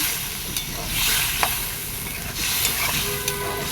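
Pieces of pointed gourd drop into a pan of sautéed spices with a splash of water, giving a steady sizzle and hiss with a few sharp clicks of a spoon against the pan.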